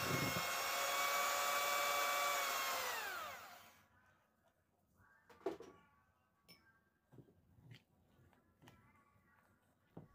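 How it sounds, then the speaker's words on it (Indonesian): An electric mixer whirs loudly and steadily while beating margarine with sweetened condensed milk until fluffy, then winds down and stops, leaving faint clatters and handling sounds. "Kemudian margarin dikocok sampai mengembang putih dan juga lembut ya teman-teman."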